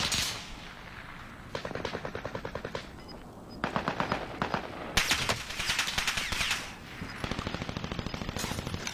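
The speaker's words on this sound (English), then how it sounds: "They shoot me." Bursts of video game machine gun fire rattle in rapid, evenly spaced rounds, several separate volleys with short pauses between them, loud and close with one heavier blast midway.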